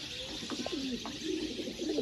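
Sialkoti pigeons coo in a few soft, low, rolling calls up close against a steady background hiss.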